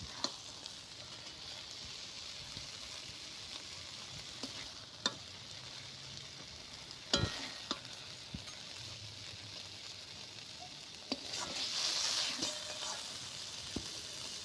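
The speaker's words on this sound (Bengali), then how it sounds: "এবার এই পোস্তটা দিয়ে আমি আর একটু ভালো করে একদম ভাজব" Poppy seeds frying in a pan with bitter gourd and amaranth greens, a soft steady sizzle broken by a few sharp scrapes and knocks of stirring, fairly quiet with no voices.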